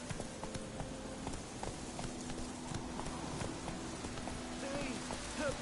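Geralt's horse Roach gallops in The Witcher 3 on PS4, a steady run of hoofbeats under a continuous bed of game music and ambience, with voices talking over it.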